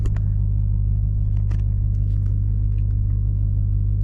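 Deep, loud rumble of a 710-horsepower supercharged Dodge Durango SRT Hellcat engine under acceleration, a steady low drone heard from inside the vehicle with faint ticks and knocks over it and no talking.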